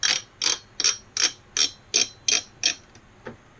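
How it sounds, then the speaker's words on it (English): Screws are driven into a PC backplate with a ratcheting tool, giving about nine evenly spaced bursts of crisp clicking up close, the last one fainter. "And the screws are starting."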